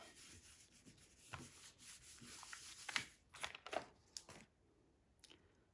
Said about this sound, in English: And we'll bring this scrap piece back over. And we'll rub it really well.